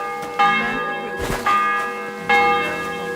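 Large church bells in the video game Kingdom Come: Deliverance 2 strike three times in slow succession, each ring bright and resonant with a long humming decay overlapping the next.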